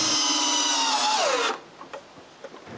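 A power drill drives a screw into a wooden log stop on a chainsaw mill, a loud close whine that drops in pitch as it bites and then cuts off abruptly, leaving faint clicks and room noise.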